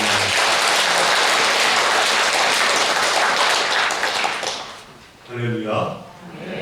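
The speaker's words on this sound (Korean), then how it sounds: "박수로 한번 드리겠습니다" Church congregation applauding together at a Sunday worship service on Thanksgiving harvest Sunday, a dense, steady wash of clapping that fills the room for several seconds, then fades as a voice begins speaking.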